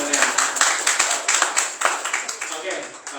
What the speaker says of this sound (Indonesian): tepuk tangan sekali lagi di dosennya